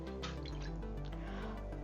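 Distilled water poured into a homemade shampoo mixture: a short, soft, steady trickle and drip of liquid, close and quiet over low background music.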